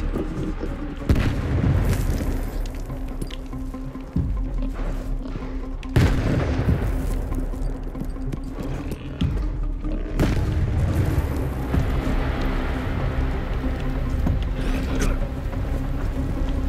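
Heavy shotgun blasts boom repeatedly in Stalker 2 as mutants are fought, several loud shots spaced a couple of seconds apart over a dense, rumbling game soundscape.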